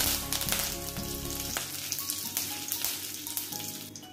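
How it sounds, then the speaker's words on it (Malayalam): Curry leaves and mustard seeds hit hot oil in a kitchen pan, giving a loud crackling sizzle with sharp popping bursts that settles into a steady frying hiss. "ഇനി കുറച്ച് കറിവേപ്പില ചേർത്ത് കൊടുക്കാം."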